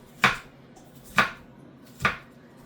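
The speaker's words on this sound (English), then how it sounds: "we're almost done with the chopping" Knife strikes on a cutting board while vegetables are chopped for pork fried rice: three separate, evenly spaced, crisp chops, close and fairly loud, with quiet between them.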